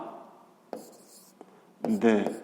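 A pen scratches out a sixth-grade geometry solution on paper, listing cube edges. Faint short strokes come close up, with a louder burst of scribbling near the end.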